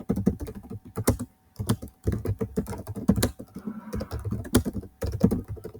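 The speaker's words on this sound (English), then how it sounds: "just randomly I'm typing" Rapid typing on a computer keyboard at close range, irregular bursts of clicking keystrokes separated by brief pauses, with no talking.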